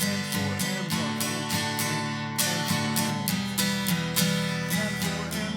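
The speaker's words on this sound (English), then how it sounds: "So this strum pattern with the chord progression," Steady acoustic guitar strumming moves through a chord progression in a regular beginner-style rhythm, with even, repeated strokes played close and fairly loud, no voice over it.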